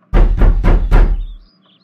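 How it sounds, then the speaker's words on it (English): Four loud, heavy knocks on a door in quick even succession, booming and close, followed by silence. "That knock was so loud."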